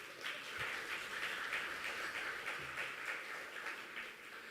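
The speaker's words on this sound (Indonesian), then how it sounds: "Mana tepuk tangannya?" Audience applause at the Bank Indonesia launch of the 2025 Indonesian economic report, a steady wash of many hands clapping at moderate distance, fairly soft and continuous throughout.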